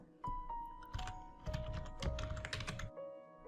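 Keys clatter on a computer keyboard in a quick burst of close, crisp clicks, pausing briefly before a final few taps.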